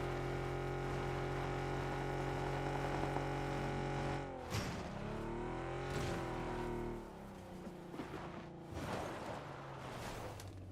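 A vehicle engine in PUBG drones steadily at high revs, then its pitch dips and shifts as the car bumps and maneuvers, staying loud and close with no talk over it.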